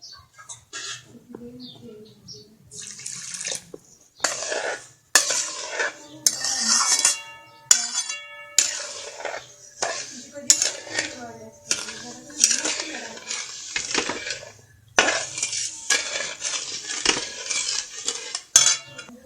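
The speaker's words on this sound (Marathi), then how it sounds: "आता कढईत आपण हे साखर घालून घ्यायचं आहे" Metal utensils clink and scrape against a kadhai as sugar and water go in for rava ladu syrup, a steady run of sharp, close taps and rattles lasting throughout.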